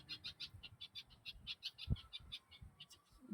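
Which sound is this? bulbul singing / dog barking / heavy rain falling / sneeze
bulbul singing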